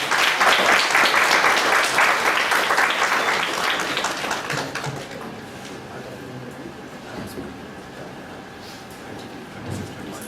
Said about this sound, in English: Members, let's have a round of applause.